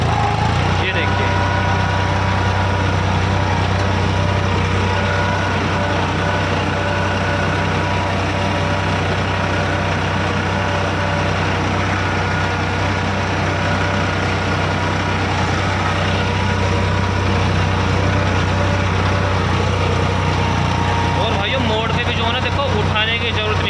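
Eicher 557 tractor engine running steadily with a cultivator attached, a continuous loud diesel drone and low hum holding throughout, with speech heard faintly over it.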